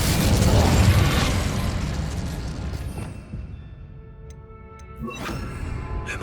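An Incendio fire spell cast in Hogwarts Legacy, a loud roaring whoosh of flame that swells and fades over a few seconds, followed by quieter crackles and a short tinkling burst.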